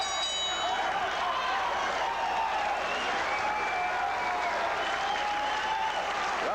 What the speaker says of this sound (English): They will cheer loudly on every Picciotti punch, whether it lands or not.